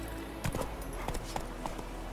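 Horse hooves gallop in The Witcher 3 as an irregular clip-clop rhythm of soft thuds over a steady low game ambience, moderately close and without speech.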